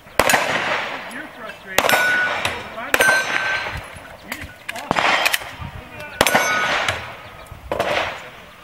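Glock pistol shots ring out at a speed steel shooting match, with sharp reports spaced about a second apart and bright metallic clangs as rounds strike the steel targets, while people talk over them.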